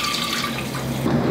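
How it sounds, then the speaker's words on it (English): Eggs held under a running kitchen tap, a steady close rush and patter of water filling and splashing in the sink for a moment, with no voices. "you want to run them under some water"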